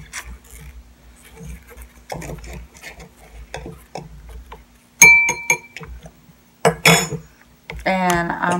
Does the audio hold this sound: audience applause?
no